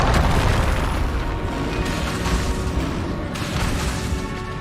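Rumbling magical explosions from the Bombarda spell in Hogwarts Legacy, a dense, continuous roar of booms and bursts that stays loud and close throughout, with no talk.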